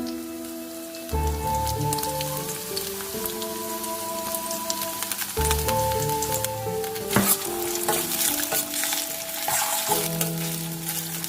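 Cleaned aloe vera gel goes into a pan of sautéing tomato and onion for a Tamil-style curry, bringing loud, steady sizzling and crackling frying close by, with stirring scrapes and a sustained tonal background hum.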